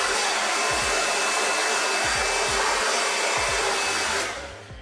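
A hair dryer blows a loud, steady whoosh while drying hair that has been styled with sea salt spray, with soft rhythmic thumps underneath. It cuts off just before the end.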